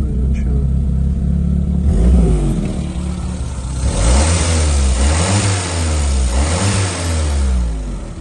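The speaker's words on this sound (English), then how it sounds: "I'll just start up for you so you can hear it run." A 1954 Hillman Minx engine turns over and starts, then idles roughly with an exhaust blow and revs up a few times, close and loud.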